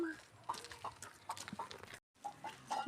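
Chickens on a farm cluck in short, scattered calls at close range, mixed with people talking nearby; a brief dropout interrupts the sound near the end.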